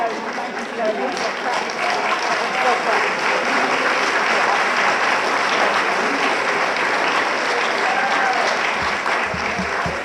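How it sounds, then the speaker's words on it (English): An audience at a university education pinning ceremony claps continuously for about ten seconds, a thick, even wash of hands that stays loud throughout, with a few voices mixed in. "Can y'all give me a beat or a clap or something?"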